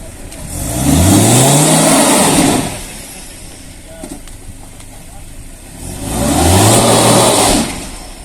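Jeep Compass crossover on test rollers with its rear wheels spinning, the engine revving up twice in long rising surges that fall back to a lower hum between them, close by, with voices talking in the background.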